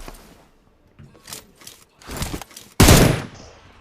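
Bursts of gunfire from a shooting video game, scattered short shots building to one loud, close volley near the end, with no talk over them.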